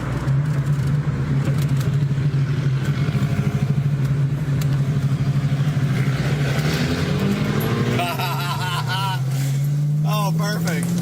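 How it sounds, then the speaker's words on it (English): A BMW car with a burble exhaust tune holds a loud, steady engine drone close by, its pitch rising slightly toward the end. "BMW with the burble tune."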